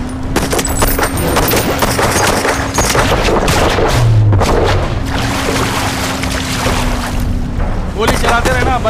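Dense, continuous gunfire in a Hindi-dubbed shark action movie, rapid volleys and booms packed together at high level with shouting voices and a droning engine mixed in throughout.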